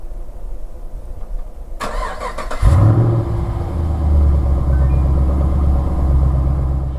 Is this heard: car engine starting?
yes